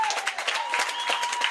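An audience applauding at a general assembly, a brief burst of steady clapping from a crowd, close and moderately loud.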